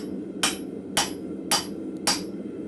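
Four sharp, evenly spaced hammer blows ring out alone in a hot blacksmith forge as a drift is driven through metal to open a hole for a 5/16 rivet, each strike bright and close with a short metallic decay.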